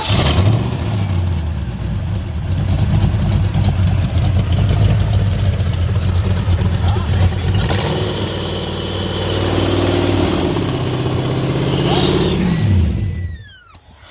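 A junkyard Ford Foxbody engine runs close and loud after a spark plug replacement, holding a rough, steady idle with a few swells in revs before cutting off abruptly near the end.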